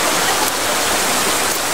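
A river flows over slippery rocks with a steady, dense rushing hiss that fills the whole clip, loud and close, with no voices.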